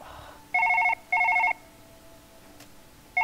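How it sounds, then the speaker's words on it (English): A telephone in Surgeon Simulator 2013 rings with two bursts of an electronic double-tone trill, then a pause before a third burst begins, clear and close over a quiet background. "Oh, my telephone is actually ringing now"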